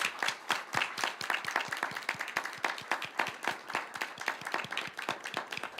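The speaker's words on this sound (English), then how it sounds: "we'd like to give you all a round of applause and a great big congratulations." Applause at a school board meeting, a modest crowd clapping in quick uneven bursts, fairly faint and steady throughout.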